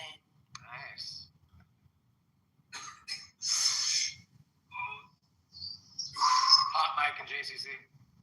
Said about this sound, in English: You sound like me in the background, coughing up loads of mucus and whatnot.